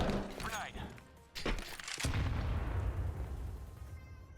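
Grenade detonation in Counter-Strike 2: a sharp blast bursts out and decays into a rumbling tail, preceded by a few quick game sounds and followed by a short fade, heard under muted speech.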